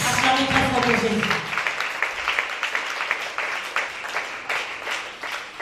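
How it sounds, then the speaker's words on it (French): A church congregation applauds for Jesus, a dense wash of steady clapping lasting throughout, with voices calling out at the start. "Put your hands together for Jesus."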